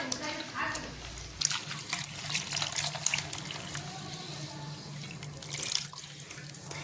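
Tap water runs into a sink as fresh drumstick leaves are rinsed, a steady close splashing stream with small shifts as the leaves are moved, while a person talks.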